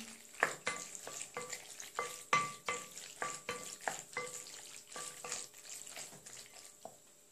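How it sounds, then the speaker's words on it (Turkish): Macaroni being stirred into a freshly added cheese sauce for mac and cheese, with a steady run of wet, squelching spoon strokes, close and moderately loud, alone without talk. "Üzerine hazırlamış olduğum sosu ekliyorum. Makarnamı karıştırıyorum."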